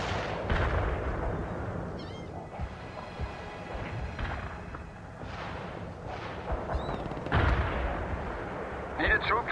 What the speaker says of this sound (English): We can start the heavy barrage.